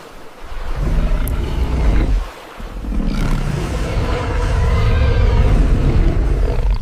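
A deep, rumbling roar swells and drags on for several seconds, with a brief lull before it surges back, loud and close over windy noise.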